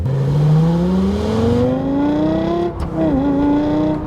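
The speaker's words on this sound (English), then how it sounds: "Shifting is typical single clutch, kind of sits for a little bit and then moves." A Lexus LFA in sport mode drives with a loud, rising engine note, then a brief drop and pause as the single-clutch gearbox shifts, before the revs climb again, close and steady without talk.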